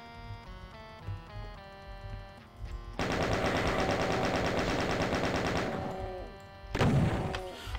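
Rapid automatic gunfire from the PC shooter Doom (The Lost Episode), a dense, loud barrage of shots running continuously for several seconds, dropping briefly, then another heavy burst with game music underneath.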